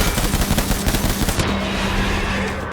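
Rapid bursts of gunfire in the video game Death Stranding rattle in a dense, loud stream, then settle into a steady noisy rumble.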